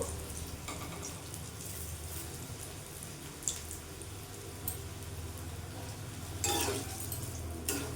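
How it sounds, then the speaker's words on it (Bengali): Eggplant fries in hot oil in a pan for an ilish begun dish, giving a steady low sizzle with occasional louder spits and stirring scrapes throughout. "বেগুনটা লাল লাল করে ভেজে নেবো।"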